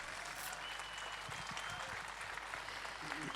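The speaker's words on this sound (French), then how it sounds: "Je pense qu'on peut encore l'applaudir, même si tout le monde est debout." A standing audience at the Fort of Breendonk memorial gives Holocaust survivor Simon Gronowski sustained applause, a dense, even wash of clapping throughout.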